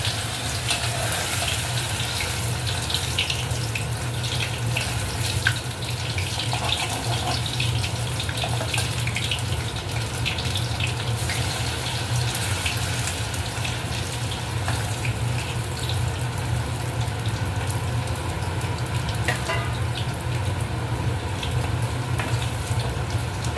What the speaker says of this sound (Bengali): গরম তেলের মধ্যে অল্প অল্প করে এই সোয়াবিনগুলো ছেড়ে দিই